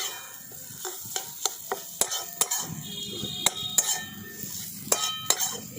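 Spiced potato filling being stirred in a kadai, with a spoon clinking sharply against the metal pan in irregular taps over soft scraping and faint sizzling, no voices.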